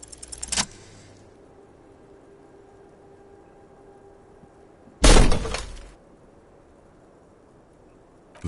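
A heavy lock cracks inside a small, heavy door in the video game Disco Elysium, heard as a single loud crunching break near the middle, preceded by a brief jangling knock and otherwise quiet ambience.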